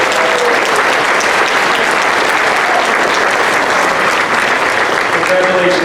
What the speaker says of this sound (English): Please give these athletes a nice round of applause